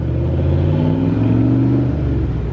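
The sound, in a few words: turbocharged fifth-gen car accelerating, turbo audible through mufflers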